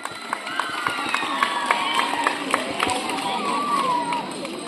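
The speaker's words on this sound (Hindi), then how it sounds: "जोरदार तालियां हो जाए एक बार।" An audience at a school quiz competition at JNV Williamnagar claps and cheers in a lively burst, with sharp individual claps and excited voices close by.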